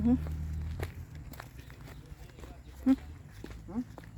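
Footsteps of someone walking behind, outdoors: soft, uneven steps tap at close range over a low rumbling background, with faint voices murmuring throughout and a few louder thumps near the end.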